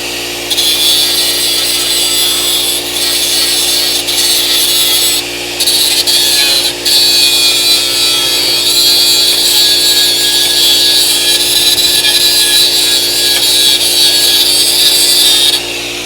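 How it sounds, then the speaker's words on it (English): A cutoff wheel lightly skimmed back and forth over metal to clean the surface on a Dodge Charger restoration, a steady loud high-pitched grinding whine that runs nearly unbroken with brief dips. "You just lightly run the cutoff wheel back and forth."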